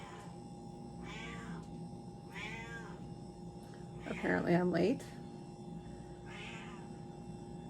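A hungry house cat meows repeatedly for snacks, about four separate meows spread over several seconds, with a person talking briefly over one of them and a steady hum underneath.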